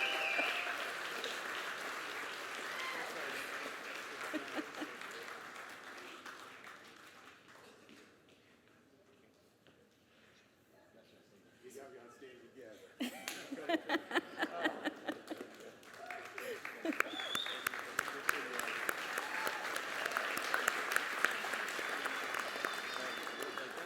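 Applause at a police department awards ceremony, clapping that fades to near quiet midway and then builds back into sharp, sustained clapping from the audience, with faint voices underneath.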